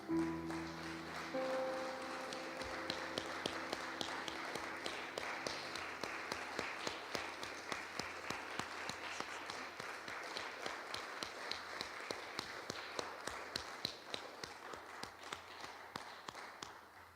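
Congregation at a church worship service applauding together, a steady dense wash of many hands clapping that runs the full length, with some rhythmic unison claps emerging toward the end.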